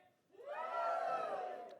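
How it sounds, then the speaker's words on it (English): An audience at a live birdwatching fair talk lets out a short cheer that swells quickly from quiet and holds as a broad, distant-sounding roar of voices. "This side of the room, give me a cheer."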